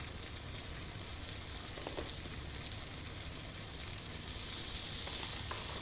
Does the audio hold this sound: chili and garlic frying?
yes